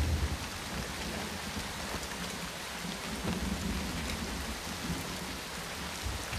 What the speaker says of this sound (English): Rain! My clothes!